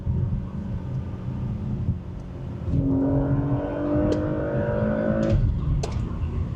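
A Porsche Macan GTS engine in sport mode revs up with a rising, droning tone over a deep, steady rumble. A few sharp clicks cut through as the pitch climbs, with no voices.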